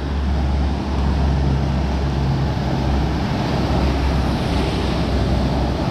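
Swollen, muddy floodwater rushing down a river in Japan, a loud, steady, continuous roar of churning water with no pauses and no voices.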